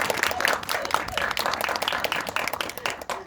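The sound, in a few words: audience applause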